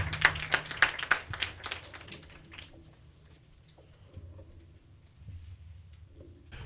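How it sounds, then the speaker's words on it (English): Classroom audience applause for student campaign managers in a government class election simulation, a short burst of clapping at the start that quickly dies away into quiet room tone. "Give them a round of applause."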